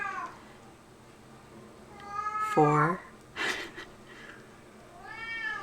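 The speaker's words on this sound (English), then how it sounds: "Oh, there goes my cat. I think he does this about 10 times in a row." A pet cat meows a few times at moderate distance, drawn-out wavering cries heard between and under a person's speech.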